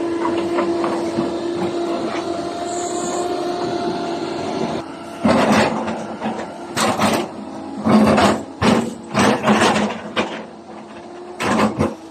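Doosan DX225LCA excavator clearing and digging black rock at an old quarry pit: a steady engine drone and hydraulic whine, followed by a series of loud, close scraping and crunching bursts as the bucket works the hard rock.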